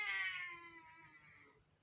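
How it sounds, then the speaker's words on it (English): A cat entering a room gives a single clear, fairly quiet meow that starts strongly and trails off over almost two seconds, heard alone. "the cat's just entered my room"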